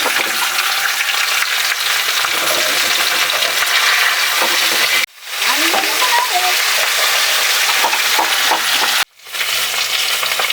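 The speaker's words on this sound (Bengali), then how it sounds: "চলুন মাছটা আমি আমার ভেজে নিচ্ছি" Tangra fish sizzles and crackles in hot oil, a loud, steady frying hiss that cuts out briefly twice before resuming at full strength.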